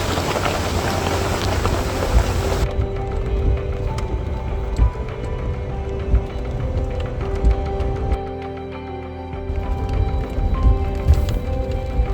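Steady rain pours down in a forest with thunder, a dense broadband hiss with scattered drops and a low rumble underneath, continuous throughout with no voices.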